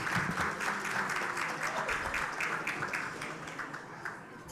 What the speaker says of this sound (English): Another round of applause for Tyler.